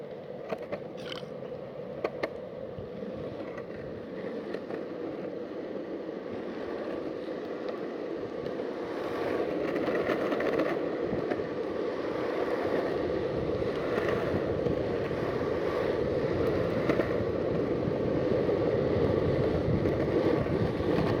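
A skateboard rolls down a hill, a continuous gritty rumble of wheels and bearings on pavement that grows louder and rougher partway through and stays steady to the end, with no talk over it.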